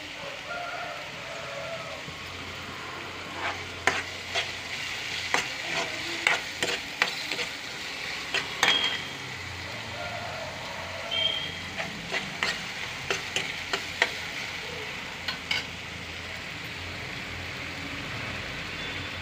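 Grated raw mango pieces fry and get stirred in hot oil for a raw mango curry with small dried fish, a steady crackling sizzle broken by irregular clinks and scrapes of a spoon against the pan.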